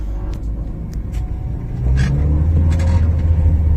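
A VW Saveiro Cross drives with a suspension fault, giving low road rumble that grows louder midway, with faint knocks and clunks scattered through the drive.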